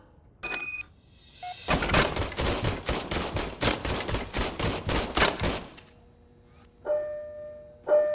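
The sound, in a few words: RoboCop's service weapon firing, from the RoboCop video game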